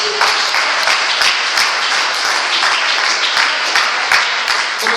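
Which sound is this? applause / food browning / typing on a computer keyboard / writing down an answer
applause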